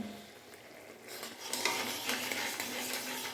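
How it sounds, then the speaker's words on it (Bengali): Food in a pot being stirred after turmeric is added, quiet at first, then a soft sizzle and the scrape of a spoon against the pan, close and low in level, no talking. "হলুদ দিয়ে ভালো করে নেড়ে চেড়ে দিলাম।"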